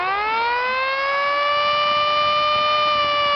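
A homemade siren runs on reduced voltage with its air intake blocked, giving a steady, fairly loud rising wail that climbs in pitch at the start and then holds a sustained, harmonic-rich tone throughout.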